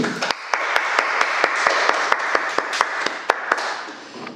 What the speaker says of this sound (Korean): 우리 다시 한번 감사의 박수, 주님을 높여드리는 박수로 영광 돌리며 나가도록 하겠습니다